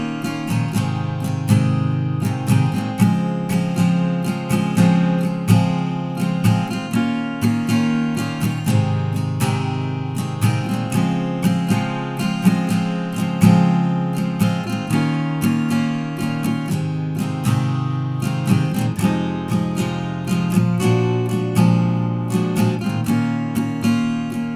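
Acoustic guitar strumming the verse chords of a song in a steady down-down-up pattern with muted beats, sounding close, even and continuous throughout with no voice.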